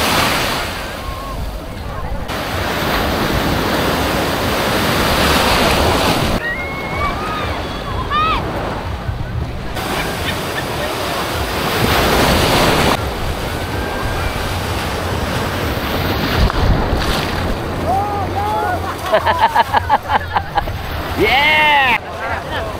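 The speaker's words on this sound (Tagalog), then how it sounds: "Maganda rin yung alon ngayon eh" Ocean waves at a surfing spot in La Union, a loud, continuous wash of surf swelling and breaking in rough surges, with strong wind buffeting the microphone and people talking and calling out over it.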